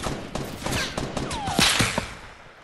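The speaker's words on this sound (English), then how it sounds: "Sounded like people were being shot right here" Gunfire in Fortnite Battle Royale: a scattered run of sharp shots, some in quick bursts, with whizzing bullet streaks, heard at a moderate distance over a constant background hiss.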